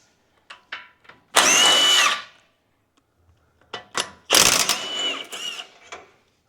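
A power tool undoing 19mm lower control arm, ball joint and rear strut mount bolts on a 2005-2015 Toyota Hilux N70 gives two loud, close whirring bursts of about a second each, with light clicks in between.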